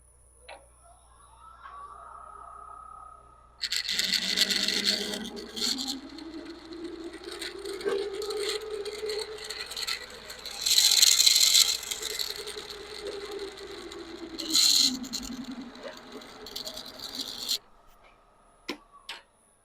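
A lathe runs at about 600 RPM while a spiral pattern is cut into an awl handle, with a whirring hum that rises and falls, scraping and ticking contact noise, and louder bursts of tool cutting, then the machine winds down.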